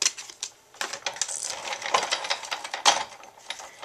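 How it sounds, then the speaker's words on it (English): A Cloudy Days embossing folder runs through a Big Shot die-cutting machine, making a quiet series of clicking, ratcheting mechanical sounds as the crank turns, heard alone without talk. "just go ahead and run it through a Big Shot."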